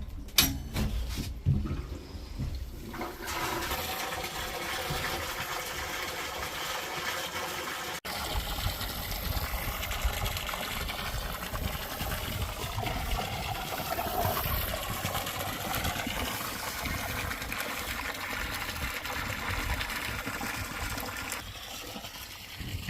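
Water runs steadily into a wildlife water tank on a Wyoming hunting ground, a constant trickle and gush that goes on throughout with no talk over it.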